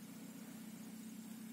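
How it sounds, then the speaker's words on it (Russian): A car idles at a distance by the Sozh River in Belarus after a November boat trip, a steady low hum that stays faint and unchanging throughout. "По звуку слышен, как машину завел Антон"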